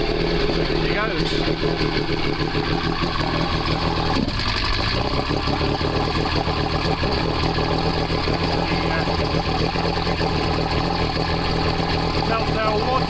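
A Bayliner Capri 1802 boat engine starts and runs out of the water, a loud, steady, rough drone held continuously from near by, with a brief surge just after ignition and no speech over it.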